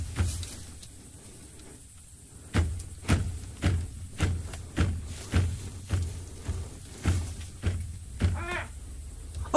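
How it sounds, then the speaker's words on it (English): At night a bird gives a steady series of harsh, caw-like calls, about one or two each second. The calls are loud and fairly close over a low background hum, with no talking. "Sounds like a bird."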